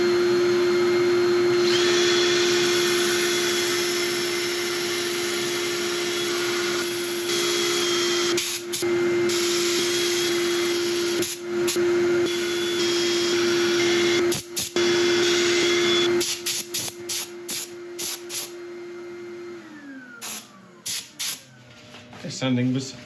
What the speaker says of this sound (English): sanding was nice and straightforward